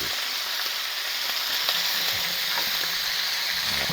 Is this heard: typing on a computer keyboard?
no